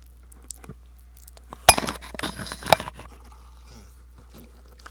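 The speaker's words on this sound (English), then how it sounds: "me banging the microphone with the glass" A drinking glass knocks against a microphone twice during a live painting session, giving two sharp, loud close-up thuds about a second apart. Faint clinks of glass come before and after against a quiet background.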